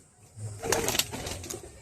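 Pigeons coo softly as two birds are let go, making a short low burbling call with some wing flutter, heard close.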